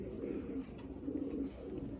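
Madrasi and Andhra pigeons softly cooing in a loft, low murmuring coos that are faint and continuous, with background noise.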